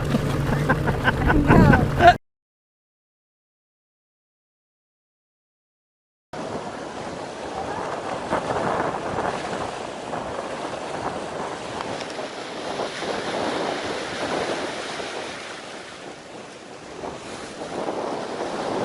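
A sailing boat running in strong wind of 20 to 30 knots through a sea of whitecapped waves, with steady loud wind noise on the microphone and rushing surf after a short burst of voices and a silent gap.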